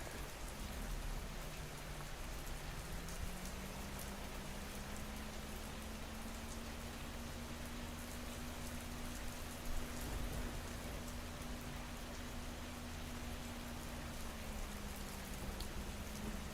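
Steady, even rainfall in the video game Schedule I hisses as a soft, continuous wash of drops with a faint low hum beneath, no voices, constant throughout.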